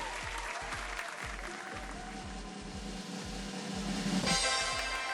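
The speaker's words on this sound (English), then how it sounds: "Round of applause." Audience applause at a themed model competition show, a steady patter of claps with distinct individual hand strikes, swelling slightly louder near the end, moderately distant.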